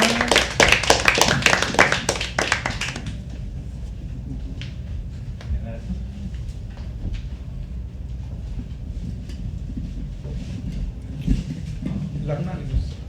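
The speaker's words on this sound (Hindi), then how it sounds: "तालियां, तालियां, तालियां, तालियां, तालियां, तालियां, तालियां।" Audience at a live poetry open mic claps in a burst of applause for about three seconds, then fades into murmuring room noise with a few scattered sounds.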